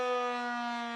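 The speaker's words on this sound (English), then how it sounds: "the siren still sounds at noon and 6 p.m. for the farmers to know it's time to stop for lunch or dinner" The civil defense siren on the Osseo Water Tower sounds a steady, loud tone rich in harmonics, sustained through the whole moment with no talking.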